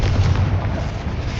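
A fire spell blast goes off in Hogwarts Legacy, a dense, loud booming burst with heavy low rumble sustained across the moment, close and alone with no talk.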